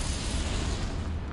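A Confringo spell blast in the Hogwarts Legacy video game lands as a muffled, rumbling boom that fills the whole moment with low, steady noise, moderately quiet and without any voices.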